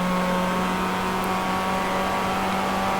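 Race cars running at speed around the Summit Point track during a 55/65PLUS race, a steady, loud engine drone with a constant tonal hum holding through the whole stretch, no voices heard.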